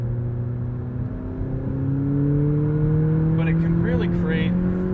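A 2020 McLaren 570S sports car engine drones steadily from inside the cabin while driving, its tone rising gradually as it accelerates, with a person talking over the engine near the end.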